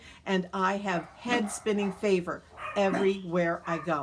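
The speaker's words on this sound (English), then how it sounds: "And please excuse the dogs." Several dogs bark and yip in the background, with short, scattered bursts under a continuous stretch of speech in a home setting.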